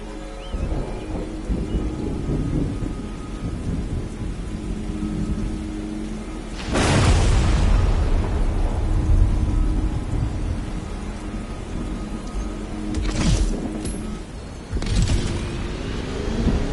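Thunderstorm in the racing game Motorfest: steady heavy rain hisses throughout while sharp thunder cracks break in loudly, one large roll near the middle and two more toward the end, with no speech.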